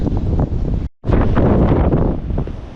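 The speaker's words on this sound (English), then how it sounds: "It's a little bit more wind now. It's picking up." Strong wind of about 20 meters per second buffets the microphone beside a mini excavator job draining a wet area, giving loud, gusty rumbling roars with a brief dropout partway through.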